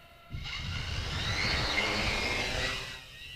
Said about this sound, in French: Un drone entièrement automatisé qui prend son envol en quelques clics seulement.